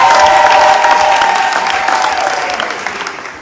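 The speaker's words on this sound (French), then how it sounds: "diaconesse Bernadette Okako Mako, on acclame" Church congregation applauding during a deacon consecration ceremony, a dense, sustained burst of clapping that fades gradually over a few seconds, with faint crowd voices beneath.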